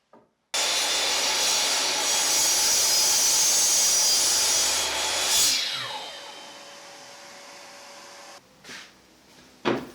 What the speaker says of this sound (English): I simply placed two planks on top of each other and made a few quick reverse cuts on the miter saw